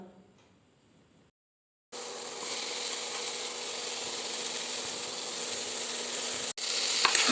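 Tomato and capsicum sautéing in a pan for spring pasta, a steady broadband sizzle starting after a brief quiet gap and continuing loud and even, with a short break near the end.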